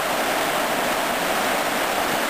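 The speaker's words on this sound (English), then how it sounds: "And what it is a spillway from the original Cayoosh Creek, it's called." Water rushing through a spillway off Cayoosh Creek, a dense, steady broadband hiss of flowing water, close and continuous with no pauses.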